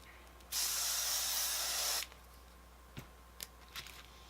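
Hairspray spritzed onto a styled wig: one continuous loud hiss lasting about a second and a half, then a few faint clicks and soft handling sounds.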